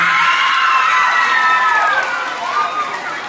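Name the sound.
crowd applauding and cheering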